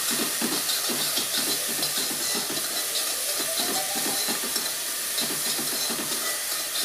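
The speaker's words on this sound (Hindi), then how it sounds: "बस इसको 2 मिनट के लिए चलाना है ताकि ये इसका कच्चा हल्का सा कच्चा स्वाद आता है वो निकल जाए" Chopped onions sizzle in a hot pan on a tawa while being stirred, a steady bright frying hiss with repeated scraping strokes of the spatula in an uneven rhythm, close and alone.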